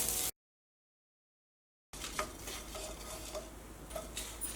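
Grated coconut being stirred and roasted in a pan, a soft scraping and rustling with light spoon knocks, quiet and close, following a brief dead silence at the start.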